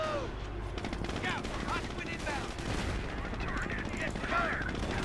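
Rapid machine gun bursts and scattered gunfire in a Company of Heroes battle, dense and continuous over rumbling combat noise.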